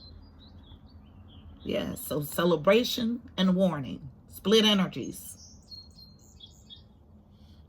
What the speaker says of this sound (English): As the house finch sings us off again today